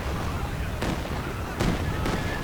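Land Mattress rocket artillery firing in Company of Heroes 2, three quick sharp launch bursts over a dense, steady battle rumble.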